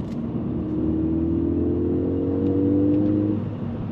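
Ford Fiesta ST200 engine and exhaust accelerating, a steady droning growl that rises gradually in pitch and loudness, heard close with no talk.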